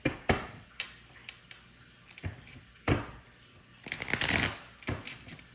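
Tarot cards shuffled by hand in a quiet room, a run of soft riffling bursts and taps spaced irregularly, close and fairly faint with no talking over them.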